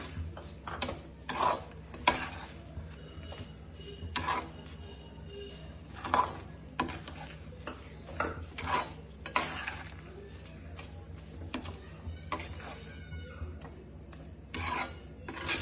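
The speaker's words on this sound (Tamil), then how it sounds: "ஒன்றரை கப் சுகர் ஆட் பண்ணி நல்லா மிக்ஸ் பண்ணிக்கிறோம்" Sugar is stirred into a thick thirupagam sweet mixture in a pan, giving quiet, irregular scraping and clinking strokes at close range with soft gaps between them.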